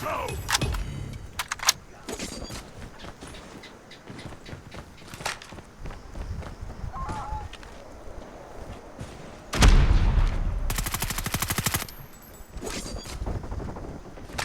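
Gunfire in a Call of Duty match, scattered sharp shots and bursts over game ambience, with a loud sustained volley near the end and a voice talking briefly in places.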